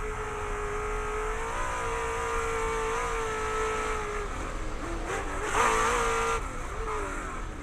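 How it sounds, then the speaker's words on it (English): An off-road race truck's engine at the Crandon World Cup track holds a high, wavering whine, then dips and climbs through a downshift and upshift around a corner, loud and steady with no voices. "There we saw CJ just downshift a second as he backs it in, comes around the finish line corner, up into third."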